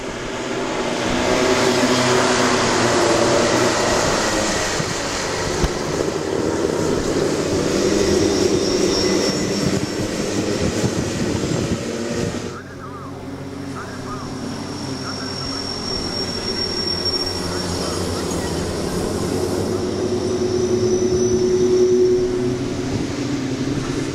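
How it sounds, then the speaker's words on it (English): Micro Max class Rotax Max racing karts on their formation lap during round 3 of the 2021 national karting championship at MECO Kartopia, Bangalore, a continuous loud engine drone that dips briefly midway then swells again. "The Micromax category drivers currently on their formation lap to start off the pre-finals race."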